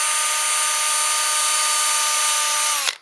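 A power drill fitted with a sanding pad whirs at a constant high pitch as it spot-sands tear-out on a turned wooden bowl. The sound is loud, steady and close, then cuts off sharply just before the end.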